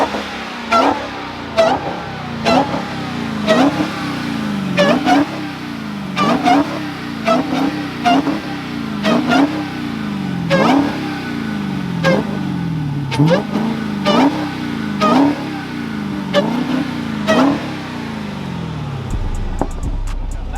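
A modified Dodge Hellcat engine revs and accelerates in a repeating rhythm of loud surges, roughly a dozen sharp pulls that each rise and drop, close and aggressive, with a rough blast at the end.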